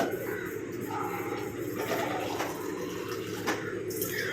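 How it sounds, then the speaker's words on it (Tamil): Plain water poured into a herbal hair dye mixture, a continuous splashing trickle with a few brief clinks over a low background rumble, no voice heard. "நான் ஒன்றரை டம்ளர் அளவுக்கு நார்மல் வாட்டர் சேர்த்துக்கிறேன்"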